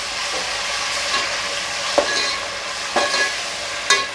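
Chopped onions with ginger-garlic paste sauté in a pan for Mumbai-style biryani, a steady close sizzle broken by a few sharp scrapes of stirring spaced about a second apart, with no voices.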